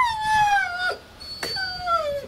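An Alabai and laika mix dog whining in long, high, falling whimpers, two or three drawn-out cries close by with short breaks between them.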